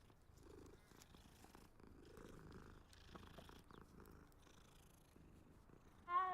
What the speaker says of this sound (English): Is that another cat?